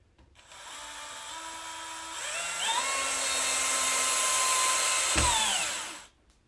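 A power drill drives a screw into a molly anchor on aluminum rods while assembling a chick brooder, giving one continuous close whine that rises in pitch, clunks near the end and then stops, with no talking.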